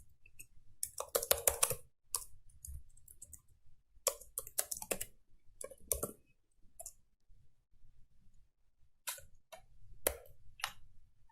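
Computer keyboard typing in irregular bursts of quick clicks, with short pauses between flurries of keystrokes, fairly close and moderately quiet, no voices.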